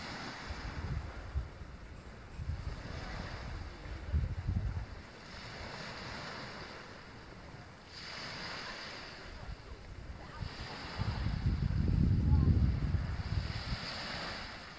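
Waves wash ashore on the beach at Sleeping Bear Dunes, rolling in repeated surges of surf mixed with blustery wind buffeting the microphone, growing loudest near the end.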